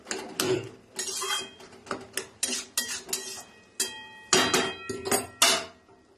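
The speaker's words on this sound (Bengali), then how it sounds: "একটু খুন্তিতে ম্যাশ করে দেবো" A spatula mashes vegetable curry in a pan, striking the metal in an uneven run of about fifteen sharp, close clanks and taps, with short scraping pauses between them.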